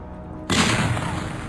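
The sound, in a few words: gunshot sound effect in a tabletop game session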